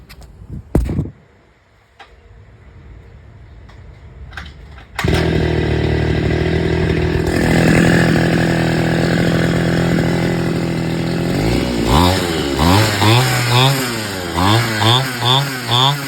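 A Robin NB411 small engine, freshly retuned at the carburetor, starts after a few faint knocks and runs loud and steady, then revs up and down in repeated rising and falling surges.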